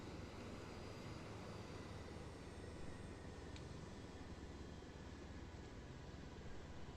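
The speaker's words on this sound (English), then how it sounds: "Seems fitting to put this big monster manly helicopter down here with all this big equipment" Helicopter in ARMA 3 setting down near heavy equipment, a steady broadband rotor and engine roar holding at constant loudness throughout, with no talk over it.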